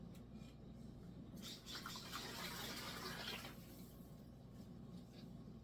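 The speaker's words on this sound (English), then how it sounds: "And you'll add 2 quarts of water, cold water, to that." Two quarts of cold water pour steadily into a pot for a couple of seconds, a soft splashing fill that rises and then stops, fairly quiet against low background hum.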